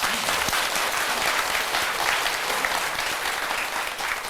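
An audience at a Buddhist dharma talk bursts into dense, sustained applause, loud and even for a few seconds with no speech on top.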